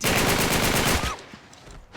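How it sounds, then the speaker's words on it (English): Gunfire from a silenced pistol in the video game Uncharted 3: Drake's Deception: a loud, dense burst for about a second that cuts off and leaves only faint background. "Kind of surprised the silenced pistol there wasn't really a one-hit KO"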